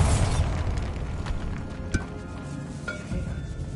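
A Bombarda spell detonates in Hogwarts Legacy, opening with a loud booming blast that rumbles on, followed by a few sharp debris-like pops and clinks.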